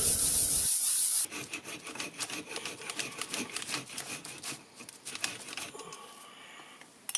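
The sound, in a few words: bog oak and bone handle pieces rubbed flat on a flat rock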